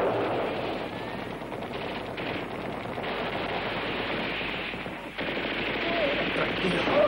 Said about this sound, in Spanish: ¡Nos estáis disparando!